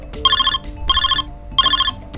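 A phone remotely triggered by Google Find My Device's play sound feature rings in three loud, evenly spaced electronic bursts with short gaps between them.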